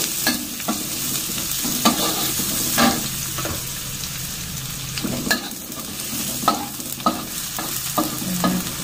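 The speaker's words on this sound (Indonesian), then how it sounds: "Kita aduk-aduk." Sliced shallots and garlic fry in a pan under a steady sizzle, while a spatula stirs them with repeated sharp scrapes and knocks at an uneven rhythm, close by with no voices.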